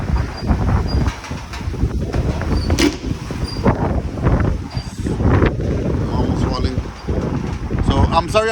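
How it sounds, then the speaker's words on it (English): Gusty outdoor wind buffets the microphone in a loud, continuous rumble while a person talks over it. "there's a lot of wind"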